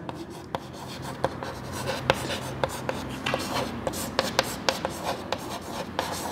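A pen writes by hand on paper, close up, while working a height-and-distance maths answer. Steady scratching strokes run throughout with frequent sharp taps, and no speech is heard.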